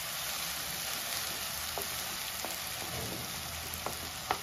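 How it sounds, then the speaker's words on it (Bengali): Spice paste fries over low gas in a pan with a steady, even sizzle and a few faint scraping stirs, continuous and close. "এখন আমি মশলাটাকে খুব ভালো করে গ্যাসটাকে কমিয়ে দিয়ে মশলাটাকে খুব ভালো করে ভেজে নেব"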